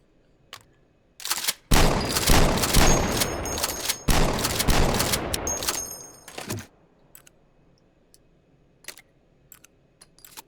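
Shotgun fire in the VR shooter H3VR, a dense burst of loud blasts and rattling reports over about five seconds, followed by scattered faint clicks and handling sounds.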